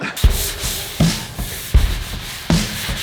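Sanding a toboggan smooth by hand with a DIY fix-up, heard as loud, close rasping strokes, four distinct scrubbing passes in a steady rhythm with no talking.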